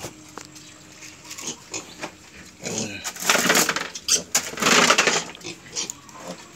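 Pigs on a pig farm grunting and oinking after feeding, a busy cluster of snorts and squeals swelling louder in the middle, close by, with faint background noise and no clear talk.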